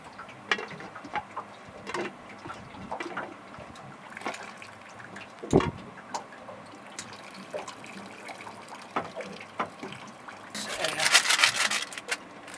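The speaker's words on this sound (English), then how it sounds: "So let's drain some of the water out." Water pours out of a cooking pot just taken off a gas stove on a boat while making macaroni and cheese, with faint clinks and rustles before a brief, louder splashing rush near the end.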